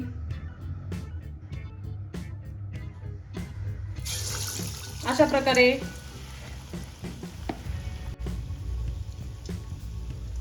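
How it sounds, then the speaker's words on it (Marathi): Vada batata in batter dropped into hot oil for deep frying, a close bubbling sizzle that surges loudly as the piece goes in, then settles into steady frying with light clinks while someone speaks briefly. "ऑइलमध्ये सोडून घ्यायचा आहे तळण्यासाठी"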